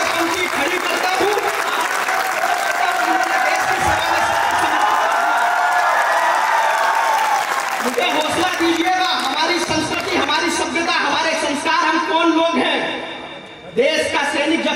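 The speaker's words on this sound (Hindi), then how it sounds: "आपकी तालियां थोड़ी सी अभी भी कमजोर है दोस्तों" Sustained applause and cheering from the audience at a Hindi kavi sammelan poetry recital held in Paota, a dense steady roar of clapping that dips briefly near the end before rising again.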